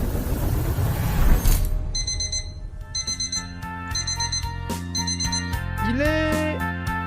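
Alarm clock going off as a role-play sound effect, a loud, repeating electronic beeping pattern in short regular bursts that starts after a noisy first moment and carries on over a tonal backing.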